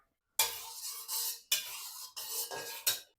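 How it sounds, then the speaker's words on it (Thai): Hot oil sizzles in bursts as coarsely crushed garlic is stirred in a pan over low heat, with scraping utensil sounds between short pauses; no voices. "เรามาเริ่มที่เจียวกระเทียมกันก่อนเลยครับตั้งกระทะให้ร้อนแล้วก็ใส่น้ำมัน"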